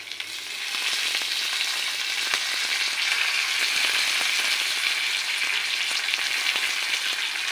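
Curry leaves and spices fry steadily in hot oil, a dense, continuous sizzle with fine crackling that holds loud and close for the whole stretch, with no voices.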